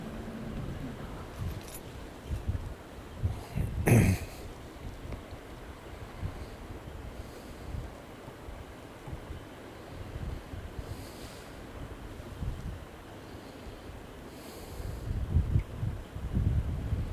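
Cold wind blows outdoors by the water, a steady, rushing roar with low gusty buffeting. It swells briefly a few times, with no talking.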